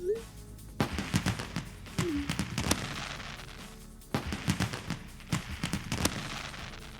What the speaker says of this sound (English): It kind of thumps as those fireworks sound as well.